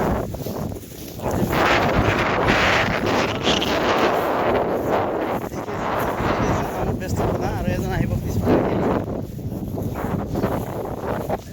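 Strong wind gusts outdoors during a fishing trip, buffeting the microphone with a rough, steady rush that runs under someone talking throughout.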